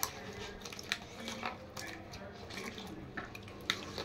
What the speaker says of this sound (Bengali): এবার আমি একটু নুন দিয়ে ভালো করে ঘষে মাছগুলো ধুয়ে নিই